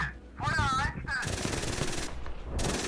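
Tank-mounted machine gun firing in the GHPC tank game, a rapid loud burst of rattling shots under a short spoken radio-style command, with sharp bursts of fire continuing near the end.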